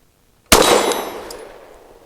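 A single sharp report from a Canik METE MC9 Prime pistol with a ported barrel, followed by a bright metallic ring from a steel target that decays over about a second and a half.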